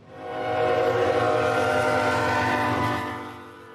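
A freight train on a line running south to Mexico through Texas border towns sounds a long, loud horn blast that swells, holds steadily for a few seconds and then fades, over a low rumble of rolling cars.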